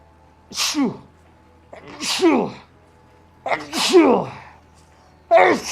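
A person sneezes four times in a row, each a loud, sharp burst separated by short pauses, heard up close with no other sound between them.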